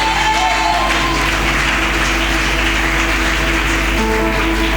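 A church congregation applauds and cheers throughout, a dense, steady wash of clapping and crowd voices at constant loudness filling the whole stretch.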